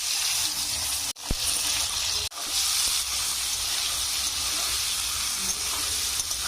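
Flat beans with a pinch of turmeric frying in a pan for Bengali korai shaak, a steady close hiss and sizzle broken by two brief drop-outs.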